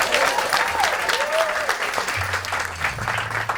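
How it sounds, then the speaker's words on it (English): Applause from a concert audience at Lopdell House, dense and steady clapping filling the whole stretch, with a few whistles and a low hum entering near the end. "round of applause for that, why not?"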